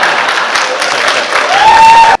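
An audience gives brief, dense applause at a political gathering where Prime Minister Oli speaks. The clapping is loud and close and lasts about two seconds, with voices mixed in and a tonal whistle near the end.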